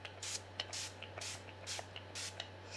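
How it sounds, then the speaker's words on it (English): Several short hissing bursts of Trixie makeup priming spray, close to the mic, spaced irregularly over a few seconds against a low steady hum. "I'm going to do my Trixie priming spray first"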